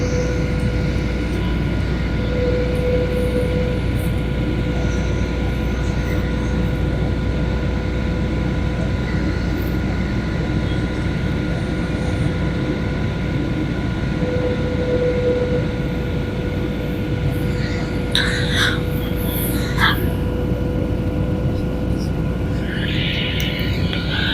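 Steady, loud airliner cabin drone on a Nairobi to Lilongwe flight while circling before landing, a constant low engine roar with faint tonal hums and a few brief clicks and rustles near the end.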